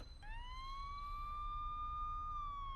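Police car sirens wail in a steady rising and holding tone over a low background rumble, moderately distant and alone.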